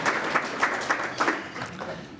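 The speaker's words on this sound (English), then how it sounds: "give the states and territories a clap" Applause from the audience at a National Press Club address by Prime Minister Anthony Albanese, a short, moderately loud burst of clapping with pulsing peaks, fairly near and not accompanied by talk.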